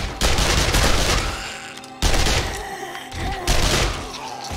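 A submachine gun firing in 7 Days to Die as a horde closes in: loud, rapid automatic bursts with thuds and impacts, broken by a sharp cut and then a fresh volley.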